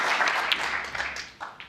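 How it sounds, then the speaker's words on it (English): Snooker audience at the World Championship applauds a century break by Judd Trump, a soft, steady ripple of clapping heard at a distance under the hush of the arena. "As the century is up, and deserves that round of applause."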